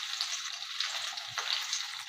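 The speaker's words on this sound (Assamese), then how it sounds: "অলপ সিজাই ল'ব লাগিব পিঁয়াজটো" Onion frying in hot oil gives a steady, continuous sizzle throughout, with small crackling bursts and no talking.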